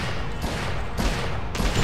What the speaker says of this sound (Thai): โอ้ยยิงรัวมากนะ